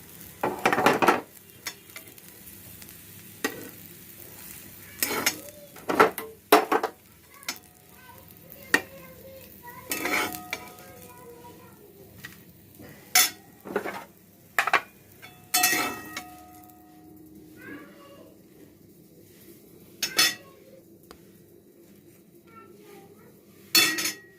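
Cooked soybean curry being served onto a plate, heard as sharp spoon scrapes and clinks of utensils against dishes in short separated bursts, fairly close, with quiet gaps between and no talk.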